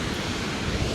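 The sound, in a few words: strong wind blowing on Isle of Skye coast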